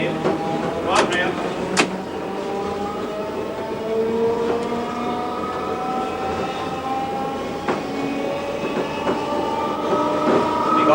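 An electric train heard from the driver's cab as it runs along the rails, with a continuous rumble, rising motor whine and occasional sharp clicks over rail joints, while someone talks at times.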